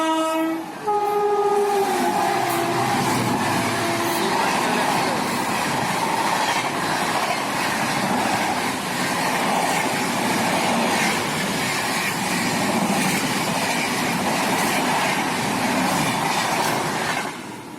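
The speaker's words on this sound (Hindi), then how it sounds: "ये रही सीमांचल एक्सप्रेस और कर रही है अपनी ट्रेन को ओवरटेक" Seemanchal Express passing and overtaking the Sikkim Mahananda Express at a station, with a loud steady rumble of wagons, a sounding horn near the start and continuous wheel clatter throughout, no talk.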